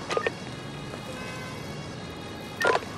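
An ambulance siren sounds in the Emergency 2017 emergency-services game during the Berlin attack mission, with short bright bursts at the start and again near the end over a steady background of game noise.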